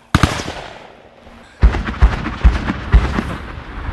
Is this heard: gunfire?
yes